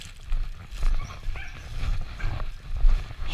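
A dog gives short barks and whimpering yips at close range along a town trail walk, the calls coming in uneven bursts over low rumbling background noise.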